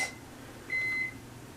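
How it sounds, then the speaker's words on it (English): A heated hair cap gives off a single steady electronic beep, a clear tone held for about a third of a second, heard alone against quiet room noise. "what the hell's beeping in the background? Well, that is my hot head."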